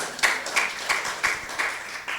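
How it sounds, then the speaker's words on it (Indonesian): Brief scattered clapping for three students at a school Ramadan boarding program, a few sparse claps in a loose rhythm, faint and fairly distant, with no voices over it. "Oke, tepuk tangan dulu buat yang 3 orang tadi."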